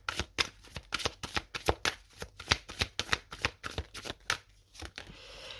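A deck of oracle cards is shuffled by hand in a rapid run of crisp, close riffling slaps, about twenty quick bursts in steady rhythm, with no talking.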